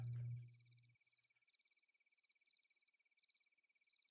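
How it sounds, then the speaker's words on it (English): Crickets chirp at night in the Minecraft game world, a steady, faint, continuous trill of rapid repeated pulses after a brief low thump at the start. "That way these crickets go away."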